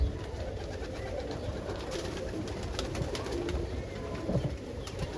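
Roller pigeons cooing in a loft holding more than fifty birds, a steady low murmur of overlapping coos with occasional closer calls, continuous throughout.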